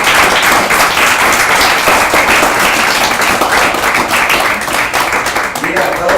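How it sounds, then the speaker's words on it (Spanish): Church congregation clapping hands in worship, a dense steady wash of applause filling the room throughout, fairly loud with no clear break. "Dale palmas a tu Señor."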